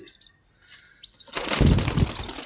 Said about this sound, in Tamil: இந்த புறாவை பிடிக்க முடியும் பார்ப்போம் அதுவும் பயங்கரமாக ஃபாஸ்ட்டாக பறக்குது